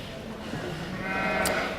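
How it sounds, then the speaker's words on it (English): A sheep bleats at a livestock show arena, a wavering bleat rising late in the moment over a noisy crowd-filled hall with a murmur of people behind it. "We have some really nice looking sheep coming into the arena here."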